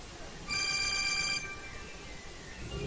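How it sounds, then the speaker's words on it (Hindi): A mobile phone rings with a bright, tonal electronic chime lasting about a second, then a softer lingering tone continues over faint room noise. "साकिब भाई फोन बज रहा है आपका।"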